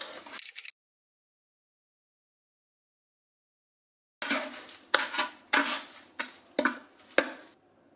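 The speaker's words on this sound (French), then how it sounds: "On mélange les fruits et le sucre." A spoon stirs fruit and jam sugar in a bread machine pan, giving a short scrape, a long silence, then a run of uneven scraping and knocking strokes against the pan, fairly close and loud.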